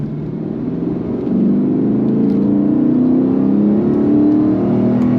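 A Lexus RC F Track Edition V8 downshifts and revs up, giving a loud, close engine drone that rises in pitch after the first second and holds steady with no talking.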